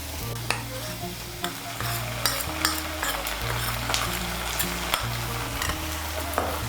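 Onion and a mustard, poppy seed and green chili paste fry in oil while being stirred, producing a continuous sizzle broken by repeated sharp spatula scrapes and taps against the pan.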